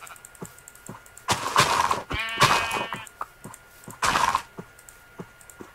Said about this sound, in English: let me kill this sheep